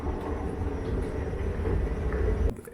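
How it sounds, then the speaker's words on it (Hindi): Metro train at Corniche metro station, heard as a steady, loud rolling rumble with rail hum throughout, cutting off abruptly near the end. "ट्रेन से कॉर्निश मेट्रो स्टेशन में"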